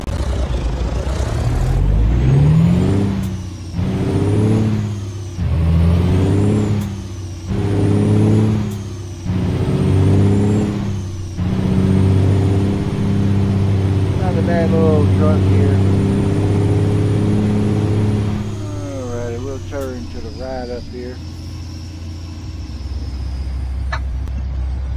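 An International diesel truck in American Truck Simulator hauls a Walmart trailer: a loud, steady low engine drone rises and falls through gear shifts, with hissing air brakes and a brief whine near the end.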